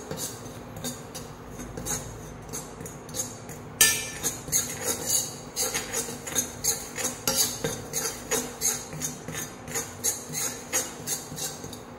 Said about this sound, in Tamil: இப்போது ஒரு கரண்டி வச்சு நம்ம இதை வறுத்துக்கிட்டே இருக்கணும்.